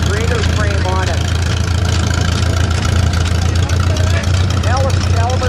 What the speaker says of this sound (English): on a 1947 Alice Chalmers W Speed Patrol grader